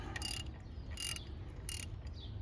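A ratchet wrench removes a bolt from a 2.4 Ecotec engine during timing chain work, three short bursts of quick clicking close by, separated by brief pauses over a steady low hum.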